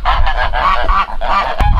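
Geese honking loudly and close, a rapid series of nasal calls overlapping one another with a brief sharp knock near the end.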